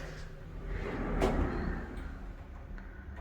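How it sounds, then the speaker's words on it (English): A translucent sliding bathroom door in a Los Angeles hotel room near LAX is pulled shut, giving one muffled close-range thud and slide around the middle over a steady low room hum, with no talk. "you can shut this door"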